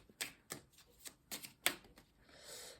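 Oracle cards being drawn and handled from a deck make a series of quiet, crisp flicks and snaps heard up close, ending in a softer sliding shuffle.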